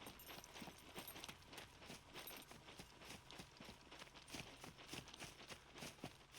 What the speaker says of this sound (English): See, hear the horse again.